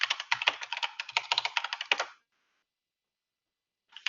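Fast typing on a computer keyboard, a dense burst of crisp clicks for about two seconds, then silence and a final tap, close and fairly quiet with no speech.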